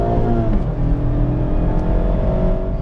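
A 2019 Mazda MX-5 Miata RF with a light flywheel drones steadily from inside the car as it shifts gears, the engine note loud and continuous with slight shifts in pitch.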